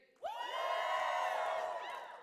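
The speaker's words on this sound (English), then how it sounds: "All right, feel free to cheer." A commencement audience erupts on cue into a sustained cheer of whoops and yells, rising sharply and holding for about two seconds before tapering off.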